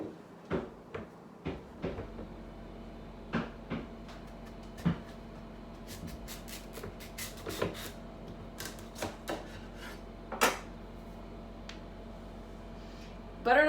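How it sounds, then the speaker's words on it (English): A spoon scrapes seeds and stringy flesh out of a halved butternut squash in a kitchen: a string of quiet, uneven scraping knocks and taps, close by, with a faint background hum. "now I'm going to cut it in half this way and scoop out the seeds"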